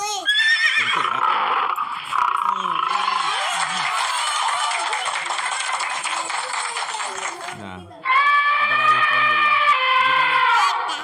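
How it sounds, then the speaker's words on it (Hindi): A horse whinnies loudly in long, shrill, wavering calls, pausing briefly before another whinny, with a hint of hoofbeats underneath, in Minecraft. "घोड़ा कैसे बोलता है"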